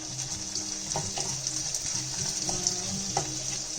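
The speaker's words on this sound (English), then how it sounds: "I'm going to saute this till it's a little brown." Onion and garlic sizzle in butter in a pan, a steady soft hiss with faint crackles and a few light clinks of a utensil, close and fairly quiet.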